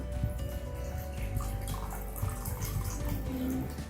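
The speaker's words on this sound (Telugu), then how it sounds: "నేను మళ్ళీ దీన్ని ఎంటీ గ్లాస్లో తీసుకుంటూ మళ్ళీ ఇప్పుడు కంగన్ వాటర్ తీసుకుంటున్నాను" Kangen alkaline water pours into an empty glass, a soft, steady trickle and drip under a constant low hum of room noise.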